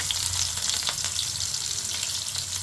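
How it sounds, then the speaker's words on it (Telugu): Small chopped onions fry in a pan for veg dum biryani, a constant close sizzle and crackle over a low background hum, with no pauses. "ఇప్పుడు కొంచెం చిన్న ఆనియన్ ఫ్రై చేసుకోవాలి"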